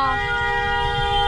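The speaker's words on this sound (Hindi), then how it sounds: "देखो कितना लंबा हॉर्न लोग बजा रहे हैं" Long, sustained car horns blare in a Delhi street during the lockdown unlock period, several tones layered steadily over rumbling traffic noise, loud and continuous throughout.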